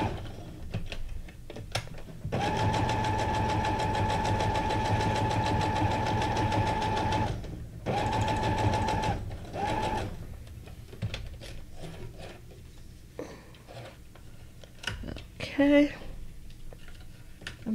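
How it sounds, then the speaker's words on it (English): A sewing machine runs in a steady, loud whir for several seconds and pauses briefly, then another burst follows. Lighter clicks and handling noises come after it, with some quiet background sound. "the sewing machine is really far from me"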